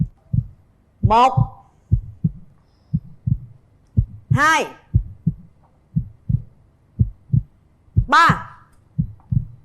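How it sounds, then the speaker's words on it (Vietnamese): Heartbeat sound effect on a Vietnamese TV dating show, a steady loud thumping pulse repeating throughout, with swelling electronic whooshes at intervals and a voice counting over it. "Xem nhịp tim của mình có đập hay không."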